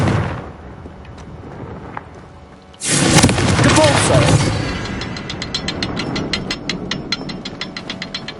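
Confringo fire spell from the Hogwarts Legacy video game bursts in with a loud sudden blast a few seconds in, then gives way to crackling and rattling game effects that keep going under quiet background sound.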